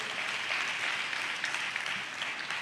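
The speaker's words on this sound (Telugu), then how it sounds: "చప్పట్లు కొడుతూ స్తోత్రాలు చెప్దాం" A church congregation claps together in praise during a sermon, producing steady, dense applause that holds at an even level for the whole stretch with no voices on top.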